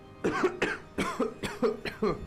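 A person coughs repeatedly in a run of about six harsh, wet bursts, close and fairly loud, with short gaps between and no speech.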